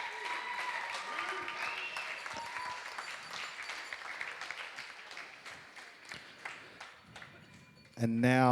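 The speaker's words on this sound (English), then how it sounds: "Ladies and gentlemen, a round of applause for the best man, Matt." Wedding guests at a reception applaud the best man, a moderate burst of clapping from a crowd that gradually thins out before a louder voice cuts in at the end.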